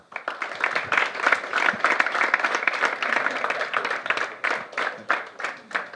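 An audience at a talk gives a guest a warm round of applause, many hands clapping in a dense, continuous patter that swells and fades slightly over six seconds.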